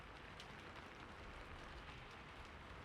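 Soft, steady rain falls in a continuous even hiss with no distinct drops standing out, faint and unbroken beneath a quiet bedtime setting, with no voices.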